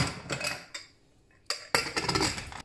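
A pressure cooker being closed up while cooking peas, with a run of metallic clanks and clinks from the lid and pot, several sharp bursts close by and no talking.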